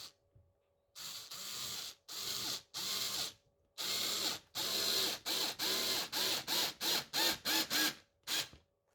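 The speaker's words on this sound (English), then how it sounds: "So now we're going to just put some screws in here." Screws are driven into a canvas board with a powered driver in a run of close, loud whirring bursts, first longer and then shorter and quicker toward the end, with no talking.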